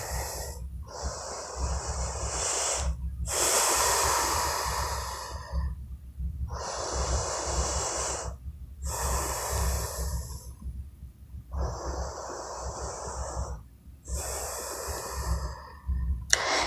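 Slow, deep breathing held in a yoga hip stretch: long audible inhales and exhales in an even rhythm, about five cycles, close and clear with brief pauses between, no talking.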